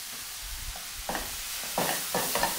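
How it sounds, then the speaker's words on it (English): Balsamic vinegar hits a pan of chargrilled, caramelised vegetables, giving a soft steady sizzle with several short bursts of stirring and tossing close by. "Just going to add some balsamic vinegar now."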